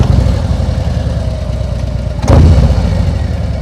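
A motorcycle engine idles steadily at a stop, then rises in a brief surge as the bike pulls away during right and left turn practice. The sound is close and continuous, with no voices.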